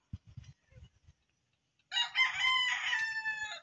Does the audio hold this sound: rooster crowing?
yes